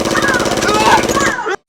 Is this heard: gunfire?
yes